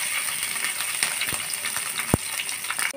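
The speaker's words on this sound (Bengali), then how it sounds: "কাঁচা লঙ্কা, আদা বাটা দিয়ে আমি একটু ভালোভাবে ভেজে নেব" Green chili and ginger paste fry in oil for a spinach dish, a close, steady sizzle with a few sharp utensil clicks and one clear metallic knock partway through. No voices.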